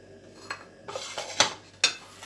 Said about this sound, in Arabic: هنزلهم في الصينيه بتاعتي كده، احطهم على البطاطس كده